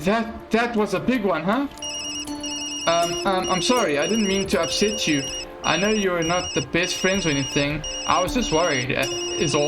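A phone rings in the horror adventure game Tokyo Dark, a repeating electronic ringtone heard throughout while characters keep talking over it.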